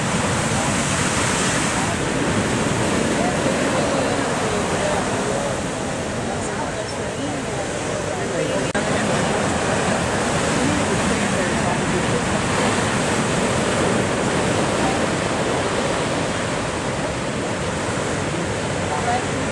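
Big ocean waves break on Hawaii's North Shore, a loud, unbroken roar of surf and wind that fills the whole stretch with little change in level.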